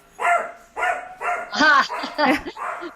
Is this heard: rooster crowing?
no